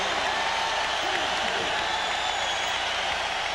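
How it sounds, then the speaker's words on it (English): A basketball arena crowd roars in a dense, steady wash of noise during an NBA playoff game between the Bulls and 76ers, with an announcer's voice blended into the din. "The crowd is a roar."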